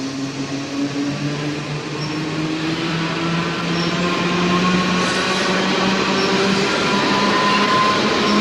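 An eastbound Erie Lackawanna MU commuter train rolls into Far Hills near Route 202, a steady rail rumble and whining motor tone swelling slightly louder as it approaches, with faint wheel clatter and no voices.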